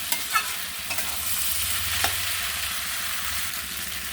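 Pasta being stirred in a pan with egg, chicken and mixed vegetables, giving a steady close sizzle with soft scraping and a few sharper clinks near the start; no voices.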